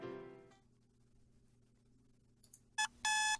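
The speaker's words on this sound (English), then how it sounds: "I swipe 4 times my phone's alarm instead of the usual 2." A phone alarm in a romance video game rings in loud, repeated electronic tones near the end, after a soft musical chime fades.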